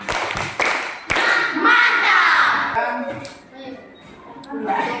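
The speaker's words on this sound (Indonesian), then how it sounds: "kita kasih tepuk mantap" A school class performs a patterned group clap, several sharp, sync'd hand strikes in quick succession at the start, then a louder run of voices chanting together that fades, with a teacher's voice near the end.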